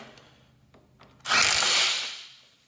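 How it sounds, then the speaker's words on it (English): A 15/16 tool tightens the steering wheel nut during a steering box install on a Cub Cadet mower. A few faint clicks come first, then one loud, close mechanical whirr that lasts about a second before fading. "Takes a 15/16 to tighten up the steering wheel."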